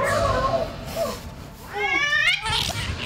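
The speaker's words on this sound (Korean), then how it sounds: "그때 갑자기 주인을 향해 무섭게 달려드는 고양이." An aggressive cat lunging at its owner, giving loud, drawn-out yowls and wavering caterwauls up close, with harsh rising cries between shorter growly sounds.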